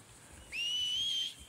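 A single clear whistle calls a horse in the video game Red Dead Redemption 2, a steady high tone of about one second that stands out over quiet background ambience.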